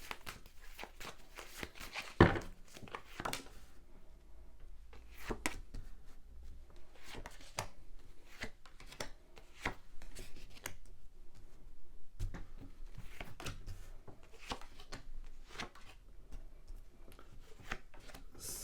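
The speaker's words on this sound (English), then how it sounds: "and then lay down 10 cards on the table for you." Tarot cards from a Prague deck being laid out one by one on a table, a quiet series of soft taps and slides spread irregularly, close and faint with no talk.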